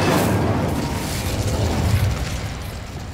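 Fire spell blast in Hogwarts Legacy, a single loud whooshing burst of flame that swells at once and slowly fades over a few seconds.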